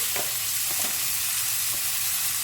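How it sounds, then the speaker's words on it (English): Butter foams and sizzles in a frying pan with rosemary, ready for fillet steak, giving a loud, steady, continuous hiss close to the mic. "all that butter's foaming in there"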